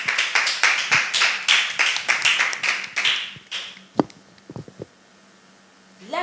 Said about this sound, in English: let's give her a round of applause as she performs